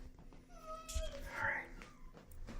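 Kitten meowing close by, a few short rising mews with soft household rustle and a voice speaking briefly around them.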